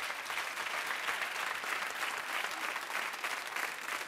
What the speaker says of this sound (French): donc applaudir Butch